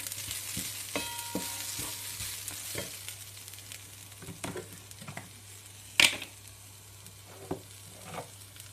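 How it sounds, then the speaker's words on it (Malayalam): Grated coconut fries in a pan with a little ghee, giving a continuous soft sizzle broken by repeated spatula scrapes and taps, with one sharp clatter midway. "ഇനി നമുക്കൊരു ഫ്ലേവറിന് വേണ്ടിയിട്ട് ഇതിലേക്ക് കുറച്ച് നെയ്യ് ഒഴിച്ചു കൊടുക്കാം"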